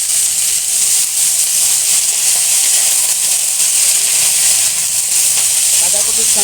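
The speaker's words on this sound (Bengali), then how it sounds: "এবার এটা ভাজা হোক।" Shredded cabbage with salt, turmeric and coriander leaves fries in a pan, giving a loud, steady close-up sizzle and hiss with no speech.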